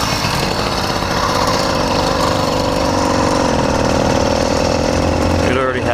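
A new YD100 engine on a motorized bicycle, still needing break-in, runs with a steady, loud buzzing drone that holds throughout and shifts slightly near the end.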